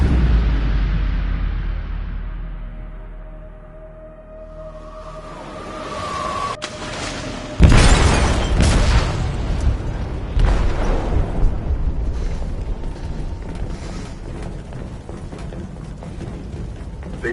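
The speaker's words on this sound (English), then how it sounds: "They detonated an explosive in the hold." An explosive detonates in a ship's hold in a video game. After a quiet, low rumble, a sudden heavy boom hits and gives way to a long roar of crashing, creaking debris.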